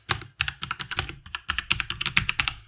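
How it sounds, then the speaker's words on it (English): A command is typed on a computer keyboard in a terminal, a quick close run of crisp key clicks in an uneven rhythm with a short pause partway through. "open up a terminal,"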